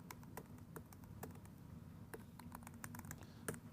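Quiet, rapid keystrokes tap on a computer keyboard as a short shell command is typed, with irregular clicks and a couple of firmer presses near the end.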